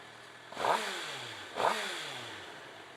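A 2017 Suzuki GSX-R 750 motorcycle engine revving: two quick, sharp blips that flare and fall back to a low idle, moderately close and otherwise unaccompanied.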